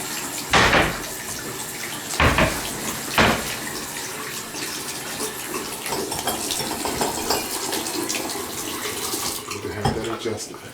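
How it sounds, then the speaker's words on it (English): Water running out of a plumbing fixture in a house under inspection, a steady splashing trickle punctuated by a few louder gushes, with faint clinks and low background voices. "water leaking out"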